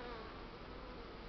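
Honeybees fly out of a hive in winter at minus three degrees during winter feeding, making a steady, even buzzing drone that fills the whole clip at moderate, unchanging loudness.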